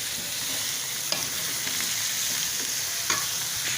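Turnips are stirred into golden brown fried onions in a hot pan, giving a steady bright sizzle with occasional scrapes and clinks of the spoon, close and without talk.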